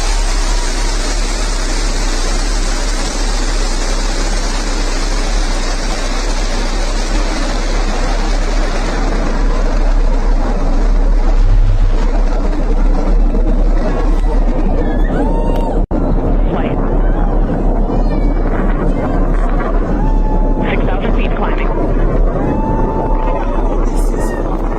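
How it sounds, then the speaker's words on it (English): Blue Origin New Shepard rocket lifting off with a broad, loud, continuous engine roar that rumbles and shifts as it climbs, with launch commentary spoken over it. "Liftoff. New Shepard has cleared the tower."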